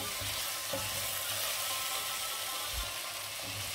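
Bone-in chicken fries in a karahi with a steady, bright sizzle and faint bubbling, close and continuous, with a few soft stirring knocks.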